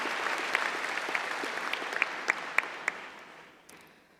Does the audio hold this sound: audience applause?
yes